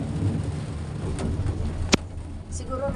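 Steady rain pours down outdoors as a continuous broadband hiss, with one sharp crack partway through.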